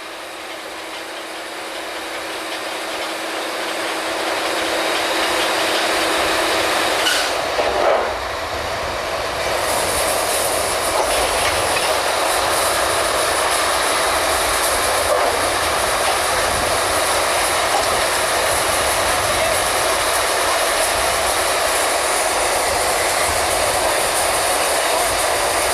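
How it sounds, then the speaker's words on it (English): Oil well drilling rig draw works, its winch and brake pulling pipe out of the hole: loud, continuous mechanical roar that swells over the first seconds, with a clank and a brief squealing whine partway through. "That's the brake man working that winch, the brake on the winch."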